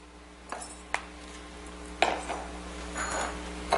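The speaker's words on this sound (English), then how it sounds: "So to start with, we'll put the fingerling potatoes in a larger bowl." Fingerling potatoes tumble into a large bowl, a few sharp clatters and knocks against the bowl spaced out over a few seconds, close and fairly quiet, with no talking.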